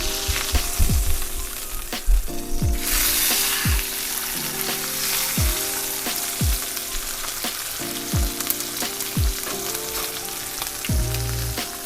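A ribeye steak sears in a cast iron pan with a loud, constant sizzle and crackle, broken by repeated sharp spits and pops, and no voices.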